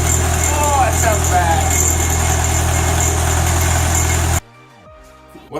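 A Nissan SR20 engine in an S14 runs with a harsh, troubled note, a loud, steady rumble with rough mechanical noise over it, then cuts off abruptly to near silence.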